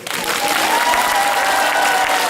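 A festival crowd claps enthusiastically in a short, dense burst, steady and loud across the whole moment, with some cheering mixed in.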